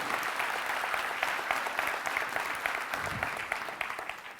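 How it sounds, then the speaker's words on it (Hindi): An audience at a motivational talk applauds itself in a steady, dense wash of many hands clapping at once, which holds strong for several seconds and then slowly thins toward the end. "एक ताली आप खुद के लिए बजा लो यार"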